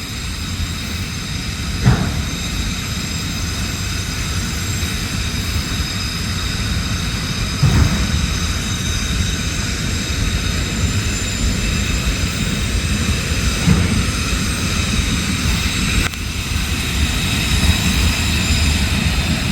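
Long freight train with auto rack cars rolling slowly past, a sustained close rumble with periodic clanks and bangs at the car joints, no voices over it.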